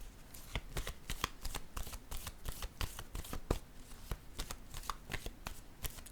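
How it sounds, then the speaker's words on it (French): Tarot cards are shuffled and handled, producing a rapid run of crisp riffling clicks and snaps that keeps going without a break, close up and moderately quiet, with no one speaking. "je vais déposer une carte en cette zone"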